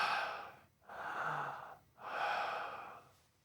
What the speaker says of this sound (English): We played the audio tape back, and we hear deep breathing.